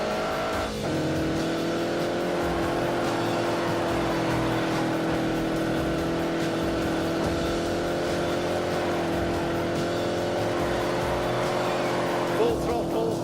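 Car engine held at full throttle in The Grand Tour racing game, a steady loud droning roar that barely changes pitch, with voices talking over it.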